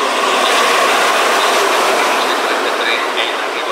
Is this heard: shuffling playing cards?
no